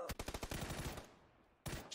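Rapid automatic gunfire in PUBG on the Vikendi map, a fast burst of close, loud shots followed by a brief pause and another short burst.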